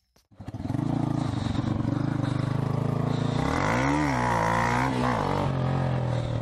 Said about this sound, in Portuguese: Vamos tentar empinar, porque eu não sei empinar de moto